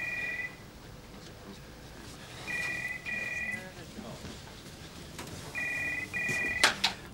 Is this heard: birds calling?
no